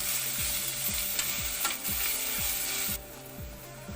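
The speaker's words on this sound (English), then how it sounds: "Heat about 3 tablespoons of oil and add the cinnamon stick and cloves and the finely chopped onions." Finely chopped onions sizzling in hot oil with a cinnamon stick and cloves, a steady close frying hiss broken by a regular scraping stir about twice a second, with no voices.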